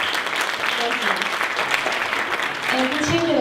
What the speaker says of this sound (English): So let's have a big round of applause for everyone.